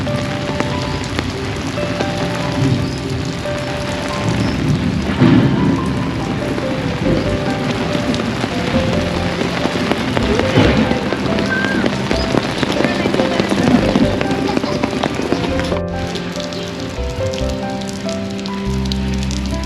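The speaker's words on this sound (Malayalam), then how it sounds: "ഈ ആർട്ടിഫിഷ്യലായിട്ടുള്ള മഴയും ആർട്ടിഫിഷ്യലായിട്ട് ഉണ്ടാക്കുന്ന മുഴക്കവും" Artificial rain effect at a bird sanctuary in Madinah, a steady dense patter of falling water filling the space, with occasional deeper rumbles and people talking faintly in the background.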